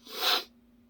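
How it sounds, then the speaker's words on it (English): A single sharp sneeze bursts out close by and fades within half a second, followed by near silence with a faint steady hum. "I'm gonna sneeze"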